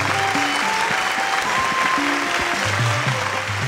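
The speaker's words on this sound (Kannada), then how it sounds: "ಜೋರಾದ ಚಪ್ಪಾಳೆ ಬರಲಿ." A studio audience at a televised Kannada quiz show claps continuously, a dense, even round of applause that stays loud throughout, with faint musical tones underneath.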